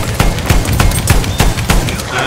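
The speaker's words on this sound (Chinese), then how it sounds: "有人在玩大炮， 对空炮" Artillery and anti-aircraft guns firing in a Battlefield 1 multiplayer match, a steady run of sharp blasts and booms about every few tenths of a second, loud and layered over a busy battle din.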